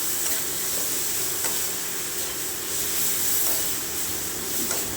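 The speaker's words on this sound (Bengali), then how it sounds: "এবার মশলাটা দিয়ে দিলাম। মশলাটা দিয়ে কিছুক্ষণ নাড়াচাড়া করে" Masala being stirred into fried onions in a pan, a steady sizzle and hiss with soft scraping strokes of the stirring spoon, close and continuous with no voices.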